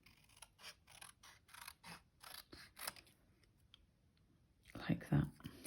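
Scrap card stock being cut down with scissors for card making, a series of crisp snips and clicks in a close, quiet room, followed by a louder handling rustle at the end.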